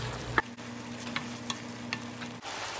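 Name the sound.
tomato masala curry with water boiling in pan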